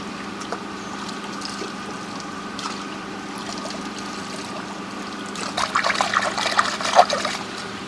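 Well water from a pump motor pours steadily into an irrigation channel, a constant rushing trickle that grows louder and more splashy near the end, with no voices.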